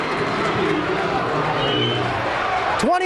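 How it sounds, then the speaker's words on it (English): Crosby crowd in a high school basketball gym roars with steady cheering and hubbub beneath an excited commentator's voice, with sneaker squeaks near the end. "now the Crosby crowd is getting wild"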